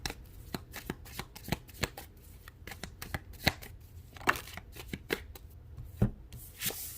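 Tarot cards being shuffled and drawn from the deck, a run of sharp riffling snaps and soft slides repeating irregularly at close range with no voices.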